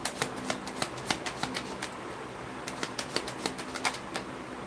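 Tarot cards are shuffled in quick clusters of sharp riffling snaps, close and fairly quiet, with brief pauses between bursts.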